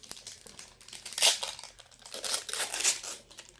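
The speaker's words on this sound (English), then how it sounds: "It's easy because you can just tear it off." Plastic wrapping torn off a Bluey Candyland board game, close, loud crinkling and ripping in two or three surges with short quieter gaps between handfuls.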